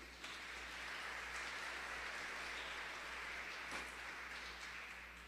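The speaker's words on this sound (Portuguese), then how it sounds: "Vamos aplaudir ao Senhor por isso, gente?" A church congregation applauding, a dense, even wash of many hands clapping that holds steady for several seconds before tapering slightly at the end.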